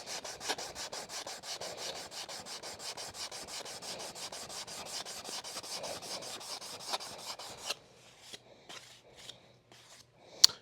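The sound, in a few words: sanding wooden guitar top brace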